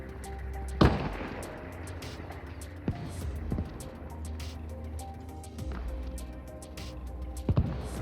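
An automatic grenade launcher fires in Arma Reforger, with a few separate heavy thumps and sharp blasts spread over several seconds against a low rumbling battlefield background.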